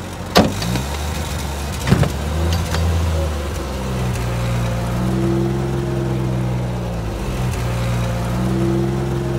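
A car engine turns over on a road trip and settles into a steady idle hum after a couple of sharp knocks near the start, loud and close, with a rising whine partway through.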